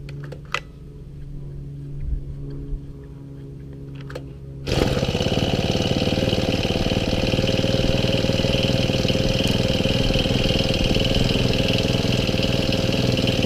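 A Honda FG110 mini tiller's small engine is started after a few quiet clicks and handling sounds, then catches and settles into a loud, steady, close idle that runs without a break.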